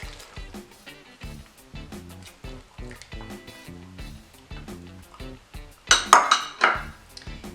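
Chopped onions go into a meatloaf mixing bowl, with a string of clinks and scrapes from a utensil against the bowl. The knocks come in an irregular rhythm and end in a louder clatter near the close.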